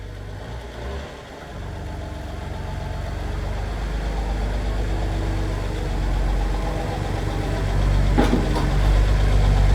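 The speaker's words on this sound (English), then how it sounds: "As you can hear, my diesel doesn't quite sound stock." A modified diesel car idles in a garage with a low, uneven rumble and steady throb that grows slightly louder over time, interrupted by a sharp click near the end.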